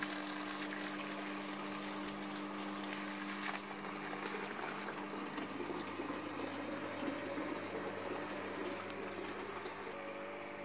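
Water refilling the tub of a washing machine set up outdoors without running water, a steady close rushing and splashing flow with a constant low hum.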